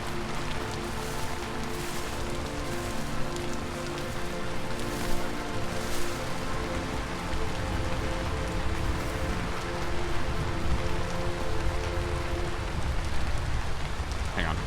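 Steady rain falls in Vintage Story, a constant hissing patter on surfaces over a low in-game background, even and unbroken for the whole stretch.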